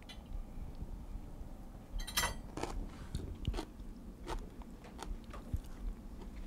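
Close crunching bites and chewing of tart, fresh fermented vegetables, irregular crisp crunches and mouth sounds repeating over several seconds against a soft background hiss, with no talking.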